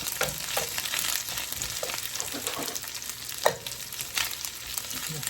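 Seasoned chicken and rice being stirred together, with close, irregular scrapes and soft knocks over a continuous sizzling hiss and no talking.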